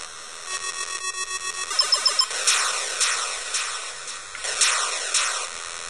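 Buzzing from the Atari video game Yars' Revenge, meant to resemble a beehive: a bright, hissy electronic drone with pulsing swells and sweeps, steady and close with no talk.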